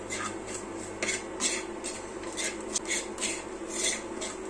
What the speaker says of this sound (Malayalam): അത് നല്ലപോലെ ഇളക്കി കൊടുത്ത് നമ്മുടെ പൊടിയെല്ലാം ഒന്ന് നല്ലപോലെ മൂപ്പിച്ചെടുക്കാം.